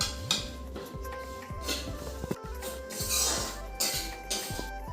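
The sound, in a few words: sesame seeds being roasted and stirred in a pan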